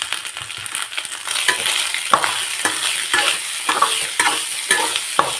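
A spoon stirs rice with onions and salt in a pan over low heat, bringing a loud steady sizzle broken by repeated scraping strokes and sharp knocks against the metal, close up and without talk.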